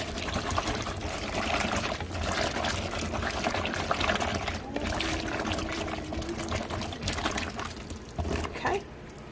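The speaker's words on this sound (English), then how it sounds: "I'm kind of just pouring it in there so that I can swish these guys around and get them all cleaned" Peppers swished by hand in distilled water inside a container for a fermented hot sauce, giving a steady close sloshing and trickling of liquid throughout, with brief gurgles near the end.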